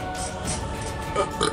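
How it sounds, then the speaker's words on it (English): A loud, close burp after eating very spicy Korean fire noodles, a short rumbling belch swelling near the end. "See, that's not a good diet idea to burp."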